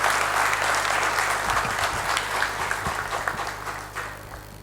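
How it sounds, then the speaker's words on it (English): A crowd at a mental health and wellness summit in Odisha gives a sustained round of applause, dense clapping that stays loud and close, then tapers slightly toward the end. "I would like all of you to please give a round of applause for them"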